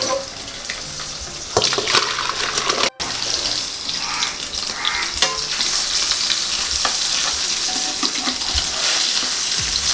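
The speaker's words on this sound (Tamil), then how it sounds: "பாருங்கள், ஃபஸ்ட்டு டைமே நம்ம வறுக்கிறோம், இப்போவே வந்து நமக்கு ஒட்டாமல் நல்லா வருது பாருங்கள்" Steady loud sizzling of fish frying in hot oil in a pan, a constant crackling hiss with occasional scraping and clinks of a utensil in the pan.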